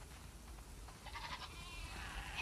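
Sheep bleat on a farm in the video game The Last of Us Part II, faint and somewhat distant, with a couple of wavering calls over a low ambient background.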